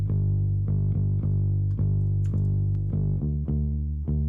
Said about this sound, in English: It has this cool raw distortion, simple distortion. That works well for bass.